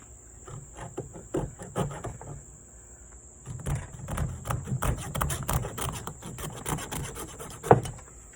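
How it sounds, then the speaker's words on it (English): A coping saw cutting through turkey wing bone joints, with close, quiet rasping strokes in an irregular back-and-forth rhythm that grow denser partway through, over a faint steady high background tone. "We're going to cut these off. I just usually use a simple coping saw."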